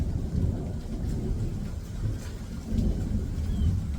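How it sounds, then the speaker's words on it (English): Thunderstorm with a heavy, continuous downpour of rain and low rumbling thunder rolling through the background, loud and steady throughout with no voices. "It is storming right now."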